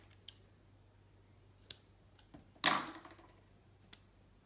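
Scissors cutting through a loop of yarn: a few light clicks, then one sharp, close snip that rings briefly, followed by another faint click.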